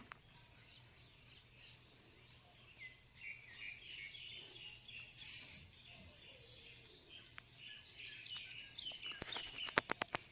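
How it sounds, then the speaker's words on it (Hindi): Small birds arriving to eat give faint, scattered chirps and tweets over a low steady hum, growing busier near the end with a few sharp clicks. "और जब नहीं डालते ना तो आती हैं, चें चें चें करती हैं"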